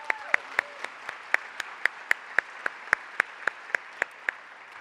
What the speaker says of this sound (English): join me in giving Christina and her team a round of applause